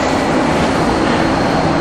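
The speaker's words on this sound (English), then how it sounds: "You'll have to excuse the noise that comes past us because we're right underneath the test track" Dense, steady roaring rush of an Epcot Test Track ride vehicle passing close overhead, loud and continuous through the short span with no voices.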